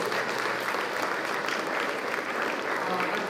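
Dense, continuous applause from a large school audience at a campus investiture ceremony honouring student council members, a loud, even wash of many hands clapping throughout.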